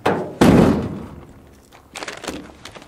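A door slammed shut with a sharp, heavy thunk close by, its sound decaying over about a second, followed by quieter knocks and shuffling movement.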